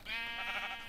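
A single drawn-out bleat from a Minecraft sheep, wavering and close, heard alone for about a second.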